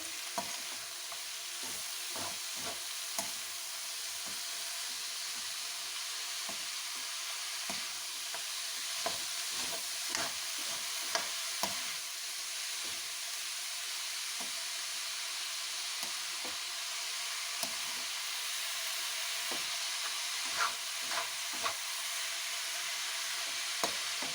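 Radish pods and potato sabzi sizzle steadily in a pan while a spoon stirs through them, giving irregular scraping clicks over a continuous close hiss.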